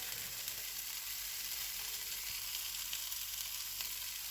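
Sausages brown in a frying pan with a steady, close hiss of sizzling fat and faint crackles that hold a constant level throughout.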